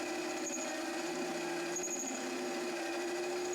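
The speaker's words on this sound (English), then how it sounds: "with this rotten tool, you can see I'm getting some pretty decent depth of cuts" A small electric-motor-driven lathe cutting mild steel with a worn cutting tool, giving a continuous whining hum with a faint scraping edge, steady and moderately quiet throughout.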